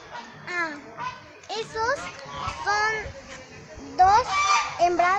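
Peahens call repeatedly at close range in a forest park, sharp honking cries in uneven bursts, with children's voices and chatter mixed in.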